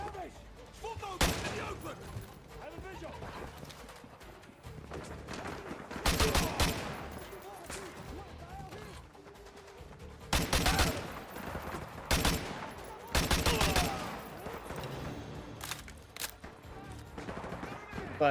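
FAL rifle fire in Modern Warfare 2 Remastered comes in several sharp bursts and single shots spread through the stretch, with quieter battle ambience and some talk between them.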